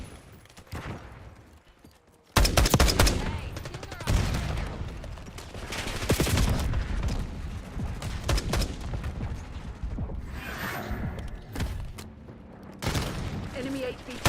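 Gunfire rips through a Black Ops 6 match, bursts of automatic weapons and loud shots starting abruptly after a quiet opening and continuing in clustered volleys with booms, under intermittent voices.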